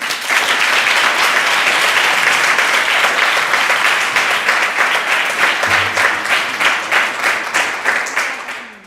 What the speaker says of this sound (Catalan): Fem un aplaudiment per la Sofia